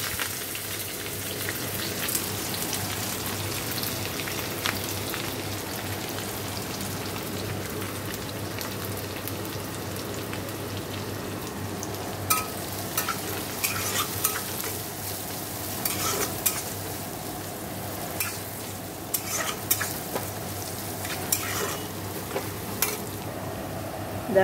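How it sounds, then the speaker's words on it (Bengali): Chopped onion sizzling and crackling in a hot pan while being stirred, a steady close frying hiss with scattered scraping clicks from the spoon and no talk. "আমি পেঁয়াজ কুচিটাকে দিয়ে দেবো।"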